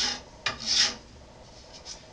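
A file rasps against a pearl shark inlay being shaped for guitar fret markers, giving a couple of short scraping strokes, one sharper and one longer, and then fainter rubs in a quiet room.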